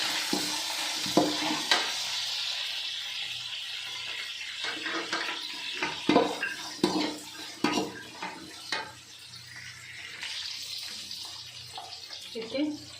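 Chopped chillies, onion and curry leaves are stirred and fried in a pan for vermicelli upma, with sizzling and spoon-scraping strokes in irregular bursts over a soft, constant fry.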